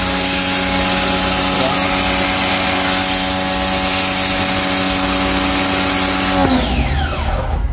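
A pressure washer fitted with a 90-degree nozzle blasts water onto a vehicle radiator, its pump droning steadily with a hissing spray close by, the pitch shifting near the end.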